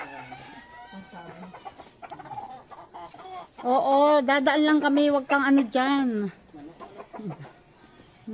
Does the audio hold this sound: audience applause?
no